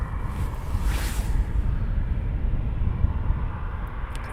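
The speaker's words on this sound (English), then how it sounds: "Oh, I can hear a Typhoon." RAF Eurofighter Typhoon jet at RAF Coningsby, a steady distant rumbling roar that swells briefly with a whooshing rise and continues as a broad low drone, with no talk.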